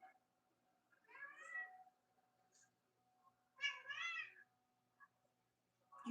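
A cat meows twice at a door, two drawn-out calls a couple of seconds apart, fairly close in a quiet room with a faint background hum.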